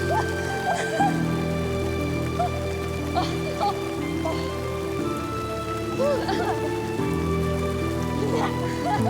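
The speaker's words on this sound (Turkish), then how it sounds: "Ferit, Ferit yağmur yağıyor" Steady rain pours onto an outdoor surface, a dense continuous patter through the whole stretch, with scattered voices speaking briefly over it.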